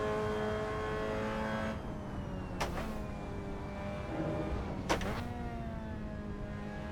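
A race car engine in a racing video game holds a steady high drone, then two short sharp bursts of revving break through before the tone settles back, fairly quiet and alone without talk.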